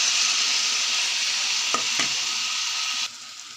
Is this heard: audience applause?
no